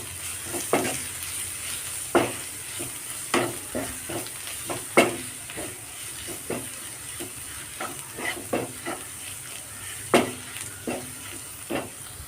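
Spoon scraping and stirring through a sizzling mixture in a frying pan as garam masala and black pepper powder are worked in, with irregular clinks and scrapes over a steady low sizzle, close and moderately loud, no talking.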